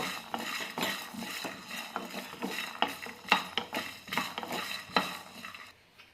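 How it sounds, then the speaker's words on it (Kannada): Peanuts and coriander seeds roast in a pan, stirred with a utensil that scrapes and clinks steadily against the metal, close and moderately loud, with a faint sizzle beneath. "ಶೇಂಗಾಗೆ ಕೊತ್ತಂಬರಿ ಬೀಜನ ಚೆನ್ನಾಗಿ ಹುರ್ಕೋಬೇಕು"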